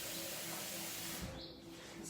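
Tap water running into a sink with washing-up liquid for the dishes, a steady faint hiss and rush that carries on for a couple of seconds, with no voices over it.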